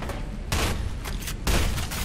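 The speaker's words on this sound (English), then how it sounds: "I can't aim with all these explosions." Explosions and gunfire from the game F.E.A.R. 2 crack out in bursts, two heavy blasts with rapid shots between them, loud and close with no talk over them.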